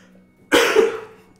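A single sharp cough, close and fairly loud, with a brief raspy tail in an otherwise quiet room.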